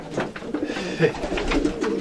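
Racing pigeons coo in a small back garden, soft low repeated calls close by with some background noise.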